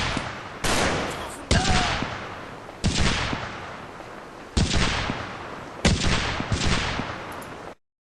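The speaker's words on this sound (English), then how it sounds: "And there goes a grenade." Battle sounds in the Combat Mission Market Garden video game, with a grenade explosion and rattling gunfire, a dense series of sharp bursts and crackling reports over several seconds, fairly loud and busy.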